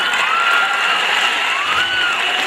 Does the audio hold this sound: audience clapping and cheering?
yes